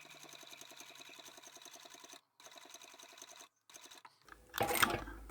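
A domestic sewing machine stitches quilt binding at a long stitch length, a steady rapid mechanical chatter that stops twice briefly, then gives way to a louder handling rustle at the end.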